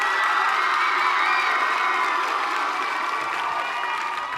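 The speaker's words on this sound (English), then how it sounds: "Everyone clapped." An audience at a stage costume show claps and cheers, with children shouting and whooping in a dense, continuous wash of applause that stays loud throughout and tapers slightly at the end.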